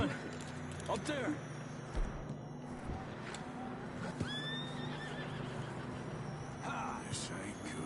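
A horse neighs and whinnies in Red Dead Redemption 2 over hoof clip-clop and steady engine-like rumble, with a few other sharp calls mixed into the busy scene.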